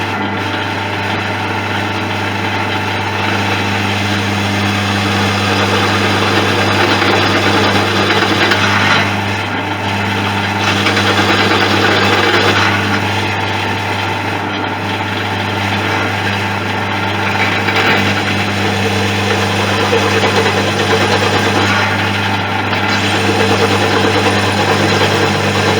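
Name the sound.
drill countersinking with a rose countersink bit at low speed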